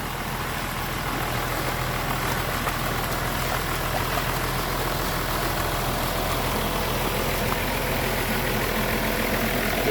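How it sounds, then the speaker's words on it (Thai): An engine-driven water pump runs outdoors, watering palm trees and filling a shrimp pond, giving a steady, loud, unbroken engine drone with a dense rumbling hum throughout. "ท่อสูบน้ำ"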